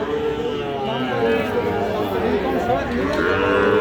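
Sahiwal bull calves at a busy cattle market low and moo amid constant crowd chatter, the animal calls rising over nearby voices.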